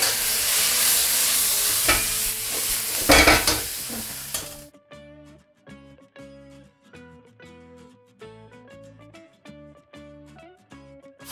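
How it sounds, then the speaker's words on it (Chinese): Button mushroom chunks stir-fried in hot oil in a wok with ginger slices, garlic slices and scallion segments give a loud, dense sizzle for about four seconds, then cut off abruptly as music takes over. "我们先下入口蘑，因为口蘑呢比较的粗，因为切的是块儿，我们先给它炒一下"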